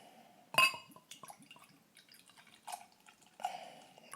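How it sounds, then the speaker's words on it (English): Evil Twin Double Barrel Jesus beer poured into a glass, a faint, close trickle with a few clinks and splashy bursts, quiet and alone. "I'm pouring a big pour, no little pours"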